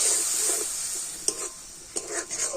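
Ground spices loosened with a splash of water are stir-fried in a pan for ghugni, giving a steady close sizzle with a few sharp spoon scrapes against the metal.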